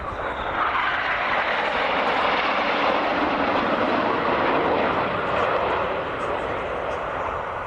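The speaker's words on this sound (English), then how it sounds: "Now next flyby in the Alinghi shape." Patrouille Suisse jet aircraft roar past in formation at an air show, a broad, steady rushing jet noise that fills the sky throughout, loud and sustained, with an announcer talking over it.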